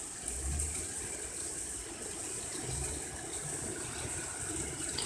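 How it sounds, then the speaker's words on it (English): Heavy rain mixed with hail pours down during a May 2017 hailstorm in Tigard, Oregon, making a dense, steady wash of noise that holds unbroken for the whole stretch, with no voices. "It's just pouring and pouring and pouring."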